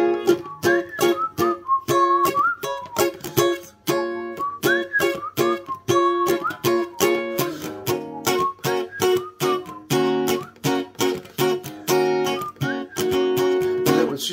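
A whistled song melody, played as part of a wedding dance set, runs clear and continuous over steady musical backing with a punchy rhythm throughout.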